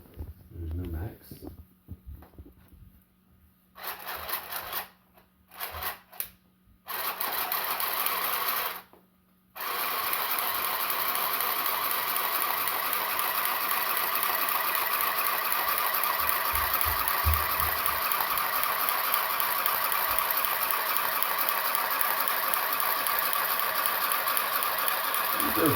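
An electric hand sewing machine runs with a steady mechanical whir and ticking, first in short stop-start bursts and then as one long continuous run at a fairly even speed.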